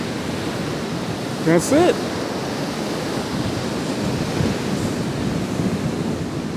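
Ocean surf rolls in at Rockaway Beach beside the boardwalk in New York City, a constant broad wash of waves and wind, with someone briefly speaking over it near the start.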